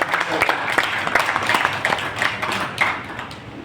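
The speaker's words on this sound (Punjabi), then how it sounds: "ਇਹਨਾਂ ਦੀ ਹੌਸਲਾ ਅਫਜ਼ਾਈ ਲਈ ਜ਼ੋਰਦਾਰ ਤਾੜੀਆਂ ਨਾਲ" Loud applause from a crowd cheering candidates at a management election gathering, a dense wash of clapping with sharper individual claps poking through, sustained for a few seconds.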